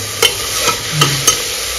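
Banana flower frying with spices and tomato in a pan: a steady sizzle runs throughout, broken by four soft stirring scrapes spaced evenly about half a second apart, close up.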